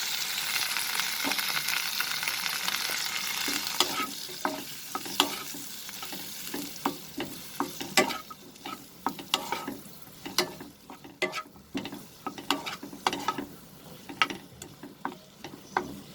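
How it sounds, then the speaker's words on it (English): Onion sautés in butter over a low flame, its soft sizzle fading into a run of sharp, irregular spatula clicks and scrapes against the pan. The sound is close and uninterrupted by speech. "You can also saute this in plain oil, friends, but the butter will give it a very nice flavor."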